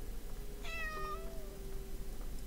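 A cat meows once in the horror game Layers of Fear, a single drawn-out cry rising and then falling, clear and fairly close against a low ambient hum, with nobody speaking.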